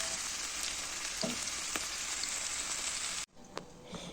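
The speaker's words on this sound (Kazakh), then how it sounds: "Ең алдымен етті турап осылай қуырып аламыз" Chopped meat and garlic fry in a pan with a steady, close hiss and crackle that cuts off abruptly near the end, then resumes more quietly.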